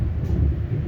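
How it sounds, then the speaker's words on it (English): Passenger carriage of a train on the Settle and Carlisle route, a steady low rumble of running gear and rails heard from inside, constant and close, with no voices. "I'm now on the train to Peterborough"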